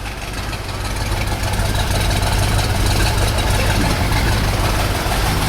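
A 1964 Corvette with the 365 hp engine idles steadily while warming up, a loud, continuous rumble with no talk over it.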